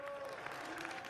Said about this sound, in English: The audience is clapping that they were removed.